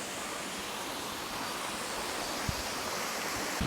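The Air Terjun Semangkok waterfall at Fraser's Hill roars in a steady, dense wash of falling water, fairly soft, with a couple of faint knocks near the end.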